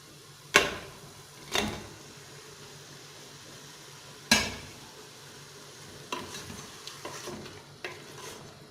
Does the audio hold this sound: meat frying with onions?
yes